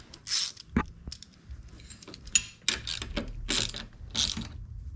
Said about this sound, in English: And you're gonna tighten it up. Make sure you're tightening.